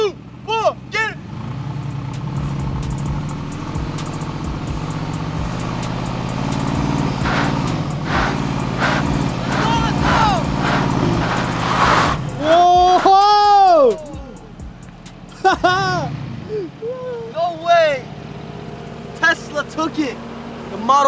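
Mercedes G550 4x4 Squared and Tesla Model X straining against each other in a tug of war, a low engine rumble and tire noise under excited shouting and cheering from a group of people.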